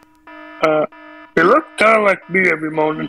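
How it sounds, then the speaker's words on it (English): A cartoon doomsday alarm clock in a bedroom in the Ed Edd n Eddy movie blares in loud, harsh, tonal bursts. A voice speaks briefly between the blasts. "Oh no, it's an alarm clock. It's a doomsday alarm."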